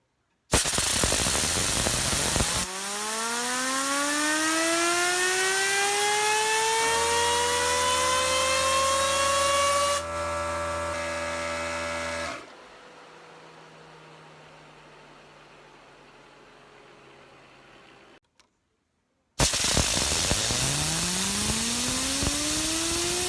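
A WooSah Namaste Elite fidget spinner, with a smooth bearing, whirs loudly and steadily on its bearing, its tone shifting as it spins. The hum gradually fades and stops, then it is flicked into another loud spin.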